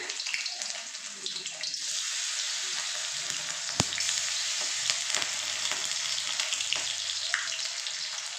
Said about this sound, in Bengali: এইভাবে আমি একটু ভেজে নেব একবারই হয়ে যাবে বেশি মাছ নেই অল্পই মাছ আছে